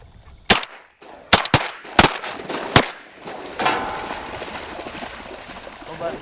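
Shotgun blasts ring out during a duck hunt, five or six sharp, loud shots in quick irregular succession, followed by a fading outdoor rumble.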